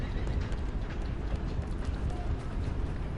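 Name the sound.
horse galloping in the video game Red Dead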